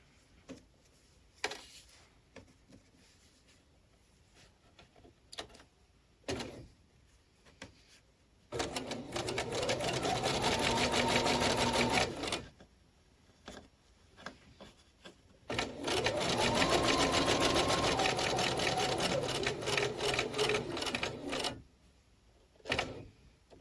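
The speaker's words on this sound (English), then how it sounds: "we're going to stitch from this point to that point" A sewing machine stitches quilt block pieces for a Phoenix quilt block, two long steady whirring runs with a soft rhythmic needle clatter, close and loud, set between quiet pauses with small handling taps and no talk.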